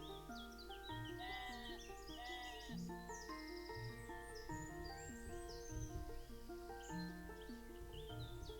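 Sheep in the nature-building video game Equilinox bleat repeatedly over a steady bed of soft ambient music, with several overlapping calls throughout.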